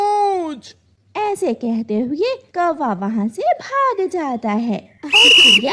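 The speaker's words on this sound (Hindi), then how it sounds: "पेड़ के पीछे बैठी सीटी बजाए जा रही थी और हंसे जा रही थी" A cartoon sparrow gives a short, bright, high whistle at the very end, right after a narrator and a child-like cartoon voice telling a Hindi kids' story about a greedy crow.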